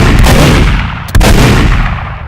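Loud gunfire rings out in the Roblox Battlefield game, with two sharp, booming shots about a second apart, each trailing off into a rumbling decay.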